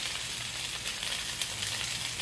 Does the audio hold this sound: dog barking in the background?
no